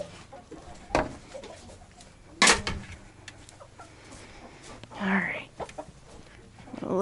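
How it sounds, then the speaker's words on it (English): Chickens in a small backyard coop at dusk, giving scattered soft clucks and a brief squawk against quiet background noise, with a person moving about nearby. "This is our smaller of the two extra coops. There's a few chickens in here, but not very many."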